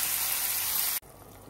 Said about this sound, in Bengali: এই যে অল্প ঝোল দিয়ে দিলাম।